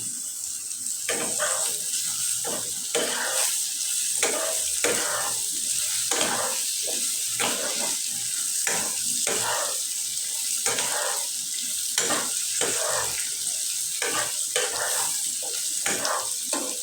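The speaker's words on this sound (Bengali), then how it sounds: "মশলাটা সহ আমার ভাজা হয়ে গেছে" Spice masala frying in a pan with chopped green chilies for a mutton dish, a steady sizzle broken by repeated stirring scrapes in an uneven rhythm, close and continuous with running water in the background.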